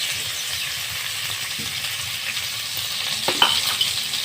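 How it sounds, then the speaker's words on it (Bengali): Chopped onions frying with cumin in hot mustard oil give a constant close sizzle and hiss, with a brief clatter of stirring just past the midpoint. "তো পেঁয়াজটা একটু ভাজতে হবে লাল লাল করে।"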